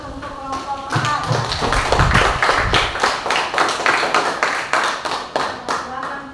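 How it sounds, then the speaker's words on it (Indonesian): A classroom audience claps for a student group that has just finished presenting, a burst of many hands that rises quickly and then tapers off over several seconds. "kita beri aplaus untuk kelompok 4"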